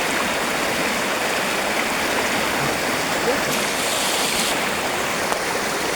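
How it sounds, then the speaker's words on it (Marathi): A river near a waterfall close to Mumbai rushes in a steady, loud, unbroken roar of flowing water, alone and close by. "पाहू शकता तुम्ही आमच्या पाठीमागून पाणी कसं वाहत आहे"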